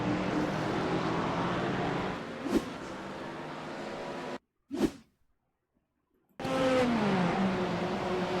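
BMW GT3 race car in a racing game at Fuji Speedway, its engine droning loudly with a steady harmonic whine, then a sudden cut to near silence broken by a brief burst before the engine roar returns.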